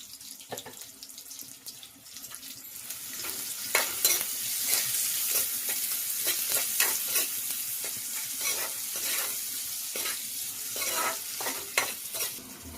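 Chicken curry frying in a pan while being stirred, with a steady sizzle and repeated scraping strokes of a spoon against the pan, close and continuous, without speech.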